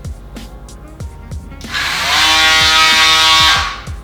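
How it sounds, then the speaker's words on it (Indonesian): A Black+Decker Project Pak power sander, run from its battery pack, whirs up after a few rhythmic thumping beats and buzzes loudly and steadily at close range for about two seconds before cutting off. "jadi dia bergerak dengan cepat ke atas ke bawah ke semua sisi untuk mengamplas"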